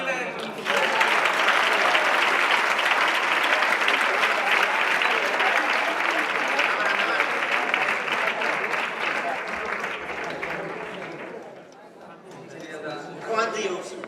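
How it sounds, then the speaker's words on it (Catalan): A crowd at a school performance showcase gala breaks into sustained applause that carries on for about ten seconds before fading, followed by a few scattered voices. "Vinga, un aplaudiment."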